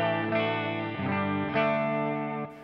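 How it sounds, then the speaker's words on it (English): Electric guitar on a clean tone played into a driven amp, sounding as sustained, harmonically rich chords that change a few times, fairly loud and steady, alone without talk. "here's just the clean"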